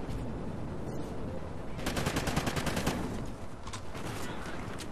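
Remington gunfire in the Xbox shooter Ghost, a rapid burst of repeated shots starting partway in and running for a few seconds. The shots are loud against a steady game background, and no one speaks.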